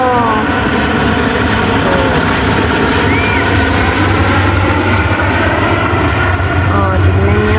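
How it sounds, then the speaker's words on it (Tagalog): Airplane passing overhead, a loud continuous engine drone with shifting tones, steady throughout with voices and outdoor noise underneath. "Kitang-kita lang po dito yung eroplano."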